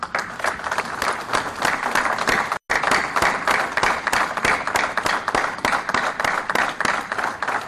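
An audience applauds presiding officers of model courts, steady loud clapping sustained throughout with one brief break early on.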